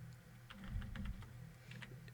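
Gloved fingers tap a computer keyboard in a quick, uneven run of soft, muffled clicks, faint and close.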